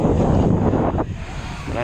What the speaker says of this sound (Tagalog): Ang hangin po, lakas ng hangin.